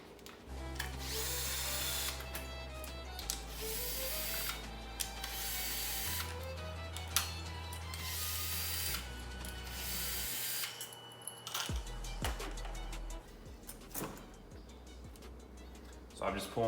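Power tool zipping off T-bolt hose clamps on a Genesis Coupe 3.8 turbo engine, a series of close, loud whirring bursts at changing speeds with short pauses between them.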